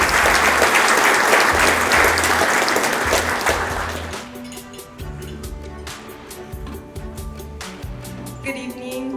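An evening program audience at the KCHCC Energy Academy bursts into loud, sustained applause for a speaker, the clapping fading after a few seconds as music and a voice take over.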